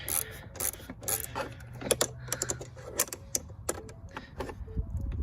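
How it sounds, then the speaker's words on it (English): Someone tightens a battery terminal on a 2012-2018 Ford Focus with a hand tool, making quick irregular ratcheting clicks and small metallic taps up close, with no talking. "go ahead and tighten down the battery terminal here"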